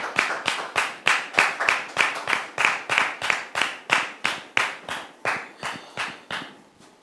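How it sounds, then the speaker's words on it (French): A studio audience at a French talk show welcomes a guest with loud, steady rhythmic clapping, about three sharp claps per second in unison, continuing for the whole stretch before tapering slightly at the end. "Public, merci de le recevoir sous vos applaudissements."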